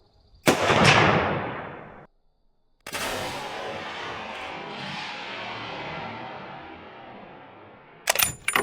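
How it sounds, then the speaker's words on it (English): Gunfire at metal targets outdoors: a single sharp shot with a long fading tail, a pause, then another report ringing out for several seconds before two quick shots at the end. "Shooting the metal again."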